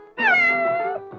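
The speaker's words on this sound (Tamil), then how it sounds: "ஐயோ என்னங்க பூனை குறுக்க போகுது?" One loud, close cat meow in a Tamil comedy film scene, a single drawn-out tonal cry lasting about a second against a quiet background.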